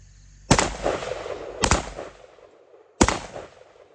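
Horizontal magazine-fed shotguns (TS-12, SRM1216, TR-19S) firing on an outdoor range, three loud separate blasts with echoing tails, a pair close together and then one more after a gap.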